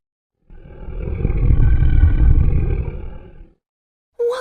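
A beast gives one loud, deep roar lasting about three seconds, swelling and then fading, heard alone with no talk over it.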